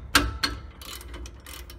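Loose brake caliper bolt on a 2007 Nissan Frontier, cracked free with two sharp metallic clicks close together, followed by a quieter run of ratcheting ticks as the wrench turns.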